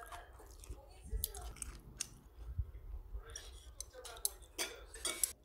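Someone eats leftover rice stir-fried with ham and vegetables, with close, soft chewing and mouth sounds and a few light utensil clicks and taps scattered through a quiet room.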